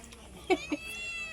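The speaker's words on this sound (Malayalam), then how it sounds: "പൂച്ചേ" A cat gives two short meows close by, separated by a brief pause, with faint background noise around them.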